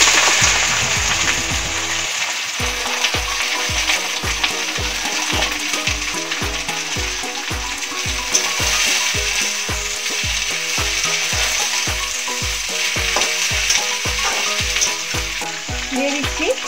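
Vegetables dropped into hot oil with darkened fenugreek seeds, sizzling loudly and continuously while a spatula scrapes and stirs in a quick, regular rhythm, close up.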